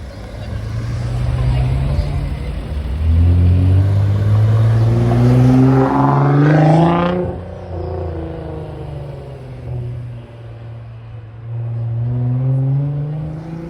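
McLaren 720S supercar engine at a Deauville car-spotting meet, a deep rumble that swells into a loud revving pass, then fades to a lower drone before rising again; voices murmur underneath.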